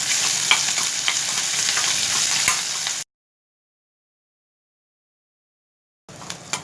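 Green chillies, ginger and curry leaves sauté in a hot pan with a steady, crackling sizzle for about three seconds. The sound cuts to silence, then the frying resumes briefly near the end.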